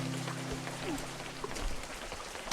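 Rain falls steadily in the video game Webfishing, a soft, even patter of drops on surfaces that holds at a constant level throughout, with a low steady hum beneath and no talking.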